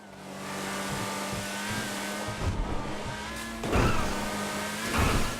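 A Principe Deveste Eight supercar in the video game GTA 5 accelerates, its steady engine drone rising in pitch and strength with two louder surging bursts near the end, heard alone without talk.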